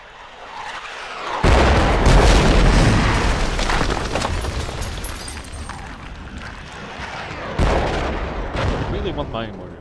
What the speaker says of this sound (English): At least their mortars are concentrated on us.